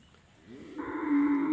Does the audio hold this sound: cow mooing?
yes